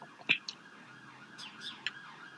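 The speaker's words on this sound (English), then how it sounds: "There goes the sirens. As soon as I come out, right? Sounds like a fire engine." A faint, distant fire engine siren wails steadily in the background, with a few sharp chirps over it. No voices.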